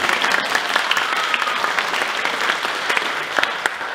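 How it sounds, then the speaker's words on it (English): An audience at a young folk night music festival applauds a performer, a dense steady round of clapping from a crowd that holds through the whole stretch with no speech over it. "give her a clap if you want"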